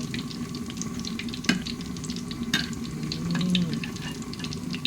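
Fish and mushrooms frying in hot oil, a steady soft sizzle and bubbling with a few sharp utensil clicks and brief scraping over the crackle.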